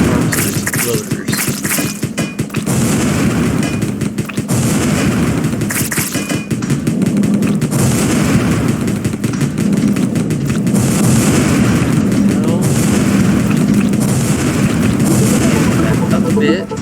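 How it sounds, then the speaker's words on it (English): A machine gun firing in the video game Wall World, dense rapid bursts of thudding shots and booms running nearly nonstop at close, loud level, with a voice talking over parts of it. "Swap back to the machine gun."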